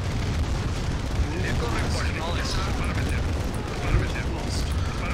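Explosions in a Command & Conquer: Red Dust battle, a steady rumble of blasts and gunfire with a sharper bang near the end, under ongoing talk.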